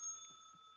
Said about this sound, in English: We got a bell, and it played.